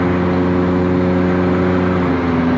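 A 4-cylinder car engine drones loudly and steadily from inside the cabin on a freeway, a constant hum with little change in pitch and no voices.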